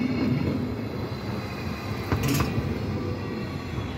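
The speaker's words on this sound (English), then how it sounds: "My train is here." A train rolls into a station, a steady broadband rumble of wheels and rail noise with a brief brighter burst midway, fairly close and continuous, with no voices.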